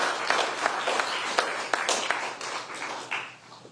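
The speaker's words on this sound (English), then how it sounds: "Please join me in just giving these individuals a round of applause for the work that they do" A small group at a county COVID-19 briefing applauds county workers, their scattered claps fairly close, tapering off toward the end.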